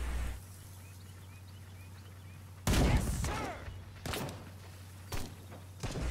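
Gunfire in the Call to Arms war game, with a few loud, sharp shots and thuds that stand apart and hit hard over a low, steady background hum.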